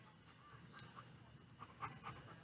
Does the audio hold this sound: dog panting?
yes